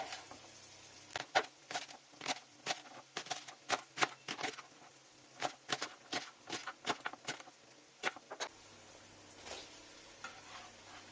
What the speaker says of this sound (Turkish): Şimdi hemen pırasalarımı doğruyorum.